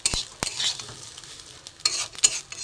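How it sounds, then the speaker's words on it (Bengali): Rice and mung dal frying together in a pan with a little oil, a soft sizzle broken by sharp scraping stirs of a spoon against the pan. "চাল আর ডালটা একসাথে খুব ভালো করে ভেজে নিলে খিচুড়িটার একটু টেস্ট হয়"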